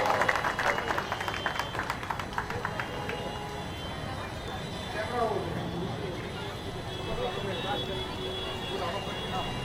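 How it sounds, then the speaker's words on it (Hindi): An audience at a children's drawing competition medal ceremony in Mumbra gives a brief burst of applause that quickly fades into steady crowd chatter and hall noise. "तो वालदा के लिए, उनकी वालदा के लिए एक जोरदार तालियां।"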